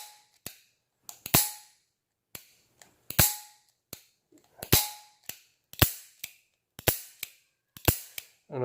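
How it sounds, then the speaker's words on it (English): Dry-fire trigger pulls on a Smith & Wesson .44 Magnum revolver, a series of sharp, close metallic clicks and snaps spaced roughly a second apart, each with a quick mechanical ring. "the trigger pull on the 44 is a lot more refined"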